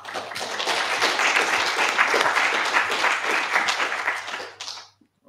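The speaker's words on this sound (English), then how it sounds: "See those claps going on in the background" Sustained audience applause, many hands clapping steadily for several seconds before tapering off and stopping abruptly.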